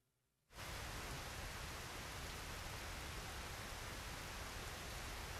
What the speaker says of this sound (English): Was that crying or rain? Rain.